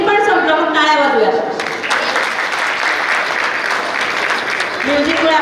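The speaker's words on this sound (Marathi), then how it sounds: "म्युझिक पण संपलं मग टाळ्या वाजूया" Audience applause at a school prize ceremony: a steady wash of clapping from a crowd, with a voice speaking over a microphone at the start and again at the end.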